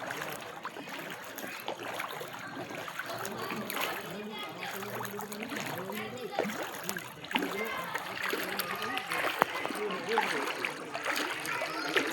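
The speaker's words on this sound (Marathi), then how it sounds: "आणि हे बघा जणू काही नदी वाहत आहे" Floodwater after torrential rain rushes down a road in Malkapur's Aanand society like a river, a continuous churning and splashing wash that stays loud throughout while someone talks over it.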